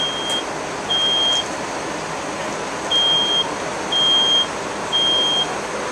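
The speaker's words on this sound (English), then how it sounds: "till we have sufficient smoke to set off the smoke detector" A smoke detector goes off during a New Hampshire house-fire burn demonstration, giving a series of shrill, evenly pitched beeps of about half a second each, spaced irregularly over a steady background hiss.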